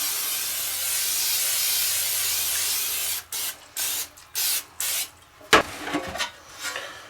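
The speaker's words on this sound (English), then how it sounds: "spray it down with some cooking oil" Cooking oil sprayed onto a 9x13 baking pan: a steady close hiss for about three seconds, then a series of short spray bursts with rattling and a sharp knock, no talking.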